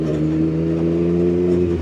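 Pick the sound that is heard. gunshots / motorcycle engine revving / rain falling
motorcycle engine revving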